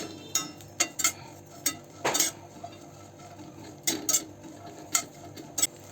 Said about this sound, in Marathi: आपण इथं पॅनमध्ये हिरव्या मिरच्या घेतल्यात आता त्या आपण परतून घेऊया